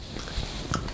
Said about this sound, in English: never thought I'd be chewing ice on a YouTube video.